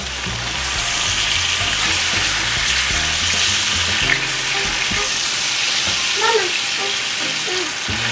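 Steak pan-searing in butter, a loud steady sizzle and frying hiss throughout with occasional stirring or scraping sounds.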